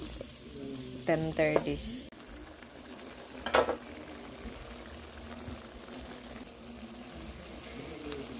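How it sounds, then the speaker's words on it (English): Water is splashed briefly into a hot cooking pan of butter broccoli with oyster sauce, salt and syrup. A steady sizzle and a clink follow, and a voice speaks quietly. "Put a little bit of water."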